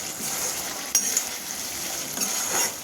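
Spices sautéing in oil with a splash of water in a pan give a soft, steady sizzle, with a couple of brief utensil clinks against the pan partway through.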